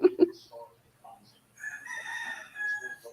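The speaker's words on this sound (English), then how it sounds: "Are those your chickens?" Two sharp clucks from chickens open, then a rooster crows in a long, fairly distant call, with faint rural background sounds around it in the Philippines.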